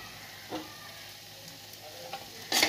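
Bottle gourd curry with lentil dumplings and chopped coriander gets stirred in a pan over a low sizzle, with a few soft scraping strokes and a louder clatter at the end.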